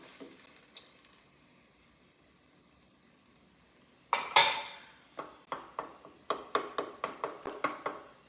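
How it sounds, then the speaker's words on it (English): Eggs cooking in one corner of a pan beside rice for Chinese fried rice, with quiet sizzling that gives way to a run of loud utensil clanks and scrapes against the pan in a steady rhythm. "I'm gonna cook my eggs on the side here a little bit before I start scrambling it all into my rice"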